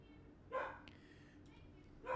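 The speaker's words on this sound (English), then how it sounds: "right on cue, the dog starts barking" A dog lets out two short barks about a second and a half apart, fairly close but not loud, over a quiet indoor background.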